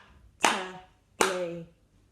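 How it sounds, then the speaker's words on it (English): Children in a phonics lesson clap along to the syllables of a name: two sharp, close hand claps about three-quarters of a second apart, each with a brief voiced ring after it. "Let's count as we clap this time."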